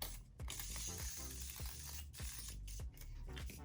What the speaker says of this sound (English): We're just gonna spray, cover the eyes.